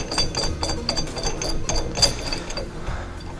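A wrench tightens the nut on a trailer hitch ball with a split washer, giving quick repeated ratcheting clicks and metallic rattles close by.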